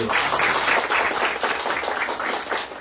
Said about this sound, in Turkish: Kendisini alkışlarımızla hazırlıyoruz